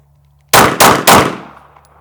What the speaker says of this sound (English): That way I can deliver fairly effective shots.